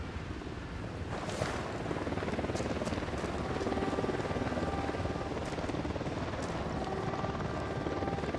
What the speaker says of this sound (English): Chopper inbound.